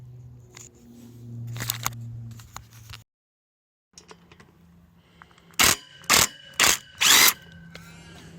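An impact driver hammers lug bolts loose from play equipment, giving four loud, evenly spaced bursts near the end. Before them come lighter clicks and rattles, a low hum, and a short silent gap.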